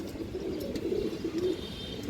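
Pigeons of an old bloodline coo in a loft in a low, continuous throaty murmur, several birds overlapping close by with no voices.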